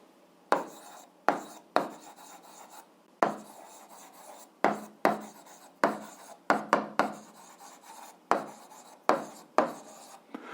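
Pen or chalk strokes scratching out a math solution for an 8th-grade algebra exercise, a steady run of short rasping marks with sharp onsets and brief pauses, close and clear with no voices.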